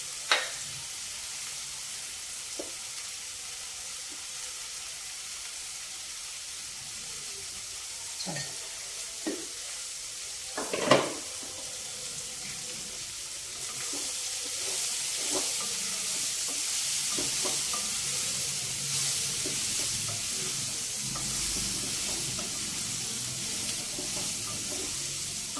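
Chili powder and spices frying with eggplant in a curry pan, a soft steady sizzle with occasional sharp clanks and scrapes of stirring, growing a little louder and hissier partway through.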